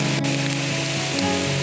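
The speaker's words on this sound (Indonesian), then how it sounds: "Hujan guys, hujan terus jadi hati-hati" Steady rain falls on a slippery mountain trekking trail near Puncak Ciguntur, Sukamakmur, Bogor, a dense continuous hiss of drops on surfaces and rain gear, close and even throughout with no voices.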